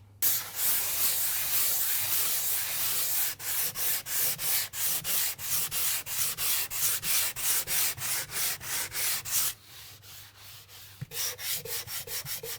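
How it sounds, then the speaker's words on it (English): Dried wall patch compound being hand sanded to feather the edges, with a close, steady scratchy rasp and then a run of rhythmic back-and-forth strokes, brief pauses between passes, and no talking. "all we want to do here is primarily just give it a sand, make sure that our edges are nicely feathered out and nice and smooth"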